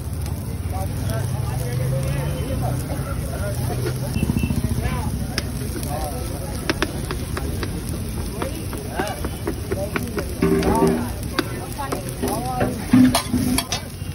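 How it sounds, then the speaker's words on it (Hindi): Veg momos frying in hot oil, a steady low sizzle and bubbling with occasional stirring and clinks of a pan, running continuously under talk. "तेल में डाल दी आज तो"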